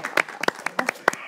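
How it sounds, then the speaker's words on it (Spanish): A few people clapping at a religious gathering: sparse, distinct hand claps in an uneven rhythm, close and fairly loud, with no other sound between them. "un aplauso, un aplauso"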